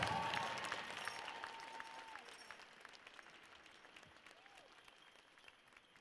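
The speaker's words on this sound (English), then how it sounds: "Big round of applause for all of our dancers" An audience at the National Museum of the American Indian applauds dancers after a grand entry, a dense wash of clapping that starts loud and slowly fades over several seconds, with a few faint whistles rising above it.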